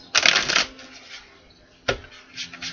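Reading cards are shuffled in two crisp bursts, a longer riffle and then a shorter one, close and fairly quiet with brief softer card sounds between.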